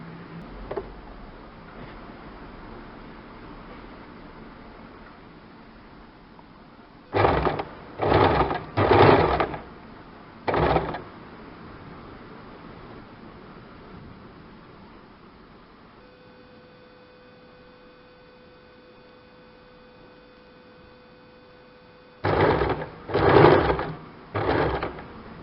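An electric sewing machine stitches a kurti collar neck in several short, loud bursts of rapid mechanical whirring, with pauses between them under a steady low hum.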